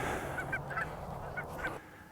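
Several short goose honks sound in quick succession over a noisy background, moderately close, then stop.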